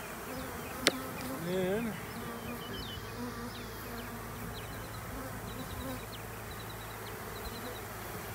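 A steady, dense hum of many honey bees buzzing close by at a hive box fills the scene, with a brief spoken phrase and a small click early on.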